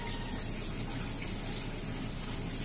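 Water runs from a tap without a break, a steady close-up rush and splash with no voices over it.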